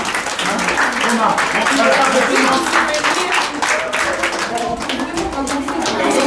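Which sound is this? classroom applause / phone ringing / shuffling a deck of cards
classroom applause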